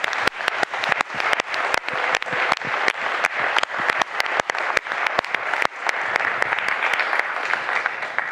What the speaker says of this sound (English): So let's join me in applause, thanking them.